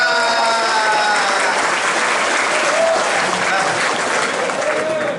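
Dense, loud group applause from soldiers gathered during an army battalion visit, continuous and even throughout with a faint voice underneath.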